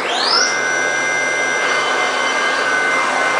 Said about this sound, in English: So we're going to cut again with the monitoring capability turned on.